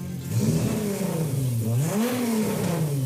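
A warm Volkswagen Golf 3 VR6 engine revs up and down in steady, close sweeps, rising and falling in pitch with no talk over it.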